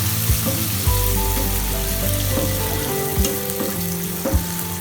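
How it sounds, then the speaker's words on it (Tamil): Cleaned prawns sizzle in about two tablespoons of oil in a pan over full flame, a steady close frying hiss with occasional stirring clinks and scrapes, no talking. "ஒரு பேனில் 2 டேபிள் ஸ்பூன் அளவுக்கு எண்ணெய் விட்டுட்டு நம்ம க்ளீன் பண்ணி வாஷ் பண்ணி எடுத்து வச்சுருக்கிற ப்ரான்ஸை போட்டு ஒரு 3லேருந்து 4 நிமிஷத்துக்கு ஃபுல் ஃப்ளேமில் வச்சு வதக்கிக்க போகிறேன்"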